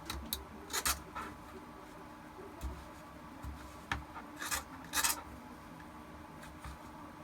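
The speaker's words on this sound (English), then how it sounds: "I'm going to run over it just with my edge of my other utility blade, just like this, get some of those extra pieces just to shape it a little." A utility blade shaves and scrapes along the edges of a plastic armor piece, giving quiet, irregular rasping strokes with occasional sharper scratches in a still room.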